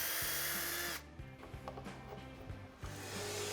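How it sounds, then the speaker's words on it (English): A power drill whirs in short bursts as it drives a screw into a bedside table, with a stretch of lighter tapping and rubbing noises between the runs. "drill a hole, and put the screw in"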